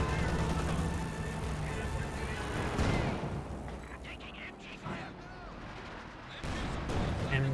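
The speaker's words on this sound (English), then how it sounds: "now we do have an artillery barrage of some sort being brought in" An artillery barrage rumbles and thuds through a Company of Heroes 2 battle, heavy booms layered under a commentator's steady talk, dipping briefly before picking up again.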